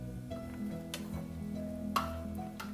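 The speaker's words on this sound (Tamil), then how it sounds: "இப்போ நல்லா காளான் மிக்ஸ் ஆகிற மாதிரி நம்ம வந்து கிளறி விட்டுக்கணும்" Mushrooms being stirred into a masala with yogurt in a cooking pot for mushroom biryani: soft scraping and tapping of the spoon against the pot, with a couple of sharper knocks, over a low background hum.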